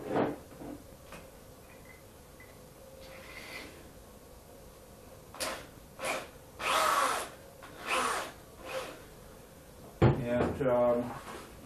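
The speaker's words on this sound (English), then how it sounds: "the next step is to use a 2-inch hole saw" A 2-inch hole saw cutting into a hydroponic lettuce channel, several short bursts of whining power-tool drilling separated by pauses, moderately close, with some speech nearby.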